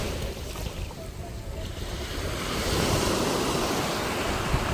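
Large sea waves surge and break on the shore in a constant roaring wash that swells louder partway through, heard close with wind buffeting the microphone.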